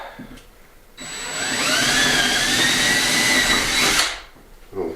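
A power drill drives screws into wood during a Spanish finca restoration, one continuous whirring run of about three seconds, rising and steady before stopping, with quiet room noise around it.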